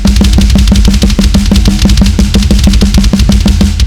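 A drum performance on a Simmons Titan 50 electronic drum kit plays as a loud, fast, steady pattern of evenly spaced hits with no voices.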